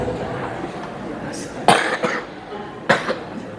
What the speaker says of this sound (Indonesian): ini barangkali sudah pandemi juga ini batuk